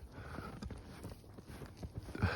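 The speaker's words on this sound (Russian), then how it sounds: "Еще ходят же, не стоят эти лошади." Faint, quiet clip-clop of horses walking slowly in bitter −15°C weather near Ekibastuz, a few soft irregular hoof steps with no other sound.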